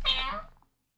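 A single close cat meow, a drawn-out, bright cry that fades quickly into silence.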